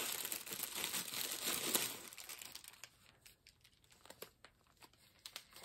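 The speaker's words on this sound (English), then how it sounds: "So I have to unwrap it." A birthday gift package is unwrapped up close, with loud crinkling and tearing of wrapping paper for about two seconds, then quieter scattered rustles and crackles, with no talk.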